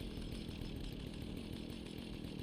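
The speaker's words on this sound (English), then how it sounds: "I would too if I saw someone charging me with a chainsaw." A chainsaw in Fallout runs continuously with a loud, buzzing, rough engine drone, steady and close throughout.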